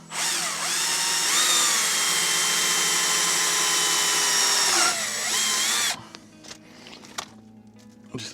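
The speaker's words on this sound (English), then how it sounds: "I'm just going to put some screws in it and mount this. And then screw the water pump to it." A cordless power drill runs loud and steady for several seconds, driving screws to mount a water pump base on a 1000-litre rainwater tote cage, with a brief pitch dip mid-run before it cuts off into quieter handling noise.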